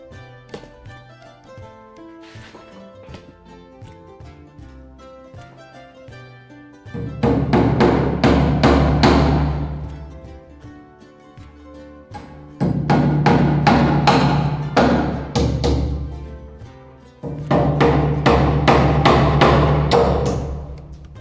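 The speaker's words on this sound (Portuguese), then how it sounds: "Aí você coloca mais prego para ajudar" Nails are hammered into a wooden door frame during a door installation, in three bursts of rapid, loud, close blows separated by quieter pauses with faint lighter taps.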